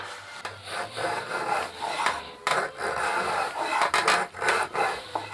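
Wooden stave being shaved with a drawknife on a foot-pedal shaving bench in a Hutsul cooperage workshop; repeated rasping strokes of moderate loudness, close by, with brief pauses between pulls and no talk.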